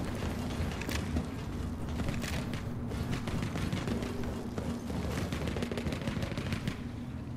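Gunfire in Forever Winter, with dense bursts of automatic shots crackling continuously at moderate distance amid a rumbling battle backdrop, no talk.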